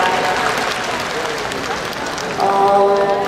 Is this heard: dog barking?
no